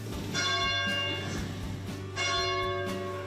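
The bell of the Church of the Wayfarer in Carmel rings out in two clear, resonant strokes whose tones linger and overlap above a steady low hum of background noise.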